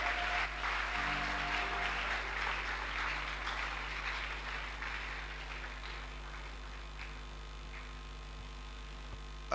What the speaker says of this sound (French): Nous acclamons le révérend.